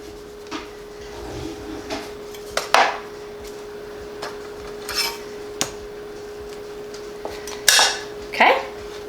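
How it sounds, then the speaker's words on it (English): A knife slices an avocado on a kitchen surface, making sparse, sharp taps and scrapes separated by quiet pauses. "we're gonna go ahead and slice up an avocado"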